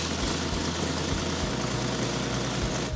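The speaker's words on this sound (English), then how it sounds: "When we got the fuse in it and I hit the key, it was just like the first time it started right up." A car engine idles steadily after repair work, a continuous close, even rumble with a slight rhythmic pulse and no voices.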